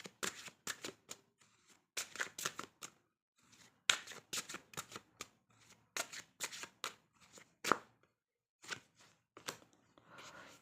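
Oracle cards are shuffled by hand in rapid bursts of crisp riffling and flicking, close and fairly quiet, repeated steadily with brief pauses between handfuls, with no talk.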